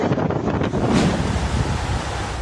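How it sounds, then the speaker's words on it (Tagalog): Strong typhoon wind and rain in Quezon City roar steadily in a dense, broadband rush, loud and close with gusts buffeting the microphone. "Umaga kanina nang maramdaman ang malalakas na hangin at ulan sa Quezon City."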